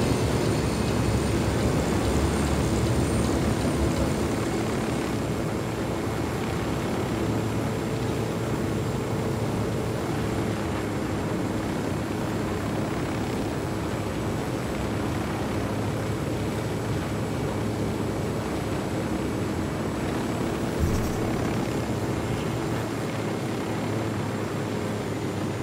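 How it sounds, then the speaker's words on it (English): Helicopters approach in Ghost Recon Wildlands as a steady, heavy low rumble with broadband rotor noise, holding fairly even and loud throughout, without speech. "That LT is getting choppers approaching."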